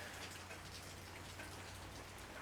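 Steady rain falls and patters on surfaces, a continuous even hiss of drops with no voices, fairly quiet and unbroken throughout.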